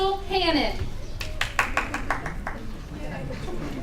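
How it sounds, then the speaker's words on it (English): Brief early clapping at a swearing-in ceremony: a quick run of about eight sharp, close hand claps that stops short, following a voice and with murmured talk around it. "Was that her that clapped early?"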